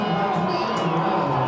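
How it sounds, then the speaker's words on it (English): College football crowd at an RPI vs. Union game roaring as the home side recovers a fumble for a turnover, a loud continuous wash of voices and cheers, with an announcer's voice over the noise. "Very happy crowd on the other side as they get the turnover, up by 3 scores."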